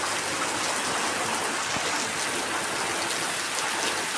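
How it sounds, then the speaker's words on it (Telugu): A sudden heavy, windy rainstorm pours down steadily, a dense, even hiss of drops drumming on surfaces with no voices. "సడన్గా ఎంత పెద్ద గాలి వాన వస్తుంది ఉన్నట్టున్నట్టు"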